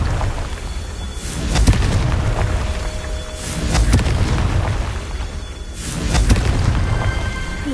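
Confringo spell blasts in Hogwarts Legacy: three heavy, booming explosions about two seconds apart. Each swells and rumbles before fading beneath a continuous low ambient roar.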